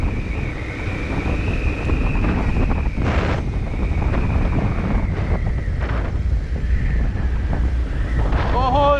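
Strong wind buffets the microphone at the NH 66 overbridge construction site in Paripally, a loud, continuous roaring rumble with gusty swells and a faint whistling tone near the end.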